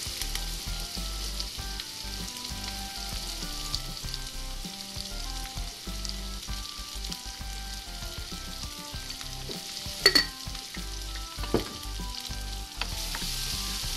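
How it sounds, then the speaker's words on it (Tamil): Onions and curry leaves frying in hot oil as a tempering for kadappa, a steady loud sizzle with occasional stirring clinks and scrapes, no speech. "அதுக்கப்புறமா வந்து நீங்கள் கருவேப்பிலையும் வெங்காயமும் போட்டு தாளிக்க வேண்டியதான்."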